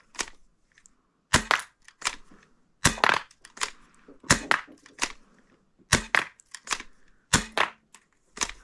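A Nerf Gel Fire Twist Shot blaster firing gel ammo at a target, giving sharp snapping cracks that come singly and in quick pairs with brief gaps between, close and fairly crisp, with no talk over them.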